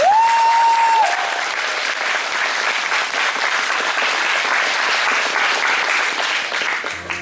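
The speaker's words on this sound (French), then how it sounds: "Eh ben, on peut la applaudir, elle le mérite." Applause from an audience at a cosplay contest, dense and steady for about seven seconds, with a brief tone at the start.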